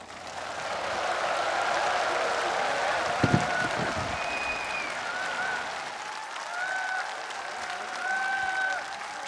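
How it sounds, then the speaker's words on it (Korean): Sustained applause from a large outdoor crowd of thousands at a solemn tenth-anniversary memorial ceremony for a former South Korean president, steady clapping with a couple of sharp knocks midway and faint whistle-like tones drifting over it. "다시 한번 큰 박수 부탁드립니다"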